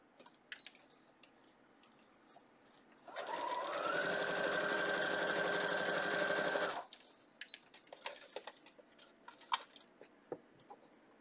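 A sewing machine runs steadily for about four seconds, stitching scrap fabric on a quilt block. Quiet handling clicks and rustles come before and after the run.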